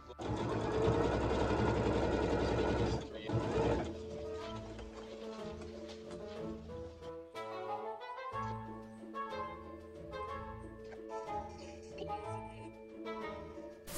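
A sewing machine stitching the collar onto a cape, a loud continuous whirring run at first, then shorter starts and stops with rhythmic mechanical clatter, close up.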